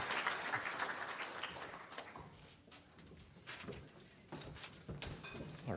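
Applause from an audience welcoming principal Judson Miller of Hellgate at a Native American graduating seniors honoring ceremony, a steady crowd clapping that thins slightly midway and swells again.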